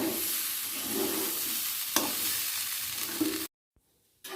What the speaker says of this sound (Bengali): আদা বাটা দিয়ে এবার চাল আর ডালটাকে আবার ভালো করে ভেজে নেব